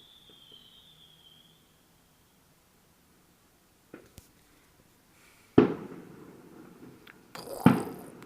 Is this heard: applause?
no